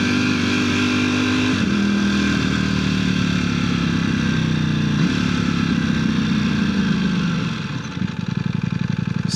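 A motorcycle ridden at night gives a loud, continuous engine drone throughout, its pitch rising and falling with the throttle as it runs steadily close by, with no voices.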